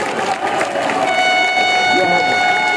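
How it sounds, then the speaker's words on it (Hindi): A crowd at a BJP election rally in Uttar Pradesh claps steadily in a dense, continuous patter while a voice talks over it. "देखिए सब लोग ताली बजाएंगे।"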